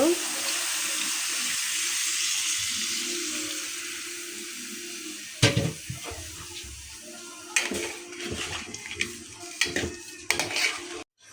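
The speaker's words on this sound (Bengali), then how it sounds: "লাউটার মধ্যে আমি অল্প করে পানি দিয়ে দেব" Water poured into a pot of bottle gourd cooking with sautéed shrimp, a steady splashing stream for about five seconds, then wet stirring, scraping and clinks of a utensil against the pan.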